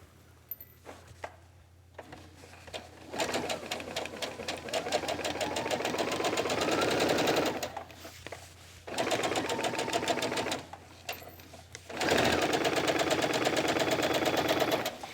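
Sewing machine stitching along a garment hem with a half-inch seam allowance, running in three loud sustained bursts separated by short pauses, with faint clicks in the quiet gaps.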